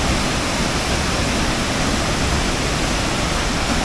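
Water rushes loudly and steadily close by, a dense, unbroken roar like a waterfall or fast stream, with no voices over it.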